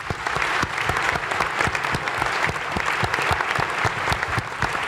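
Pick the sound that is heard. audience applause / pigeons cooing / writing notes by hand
audience applause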